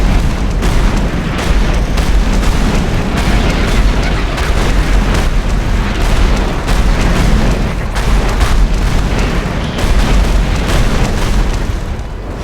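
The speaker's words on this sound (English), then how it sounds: "I'm pretty sure one meteor will destroy this shield." Meteors from a Magicka spell hammer against a magic shield in a relentless series of loud booming explosions that run for the whole stretch, dense and heavy, with no voices over them.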